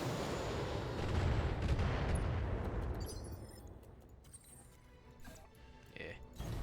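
Mech weapons firing in the Battletech video game: a heavy, booming burst that rumbles loudly and then fades into crackling debris and smaller impacts.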